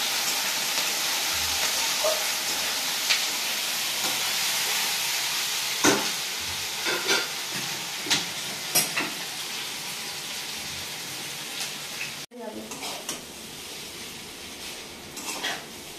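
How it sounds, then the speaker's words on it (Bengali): Chow mein stir-fried in a pan for a Sunday family breakfast gives a steady sizzle and hiss throughout, with occasional clinks and scrapes of a utensil against the pan and a brief sharp knock near the end. "তো মা এখন চাউমিন বানিয়ে নিচ্ছে"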